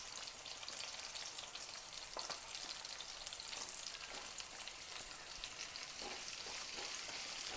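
Chopped onion fries in a pan for vegetarian pasta, giving a continuous faint, crackly sizzle with scattered small pops and no talking.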